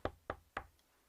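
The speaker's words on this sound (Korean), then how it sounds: "노크 소리예요." Three sharp knocks on a door in an even rhythm, close and fairly quiet, followed by a faint fourth tap and then silence.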